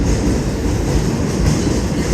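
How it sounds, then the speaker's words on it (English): A New York subway J train rumbles along the rails with a dense, loud, continuous roar and a faint clatter of wheels, heard from on board with no talking. "It is a J train."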